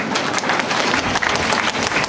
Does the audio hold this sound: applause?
yes